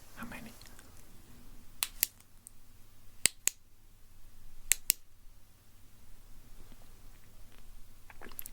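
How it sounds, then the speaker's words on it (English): Sharp, crisp clicks made close to the microphone during an ASMR hearing exam come in a few spaced pairs against a soft, quiet background. "I'm going to make clicking sounds."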